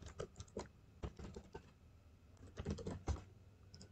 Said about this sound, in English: in the web address bar simply type in pnc.com